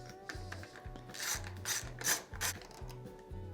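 A ratchet with a 10mm socket loosens the taillight bolts on a Honda XR150L motorcycle, giving a close, regular series of clicking strokes at a steady rhythm.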